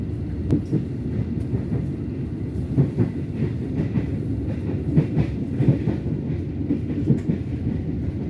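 The KA Ranggajati train between Cirebon and Surabaya rolls steadily along the rails in the morning, a continuous rumbling clatter with rhythmic clicks from the wheels, fairly close, no talking.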